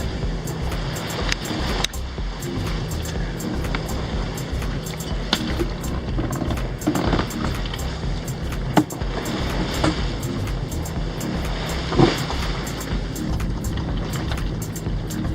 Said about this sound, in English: you see the force with which the swells are crashing over those rocks